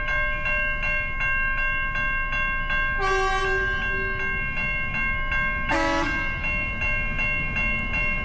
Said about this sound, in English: The train blowed its horn and a truck's blown its horn in response.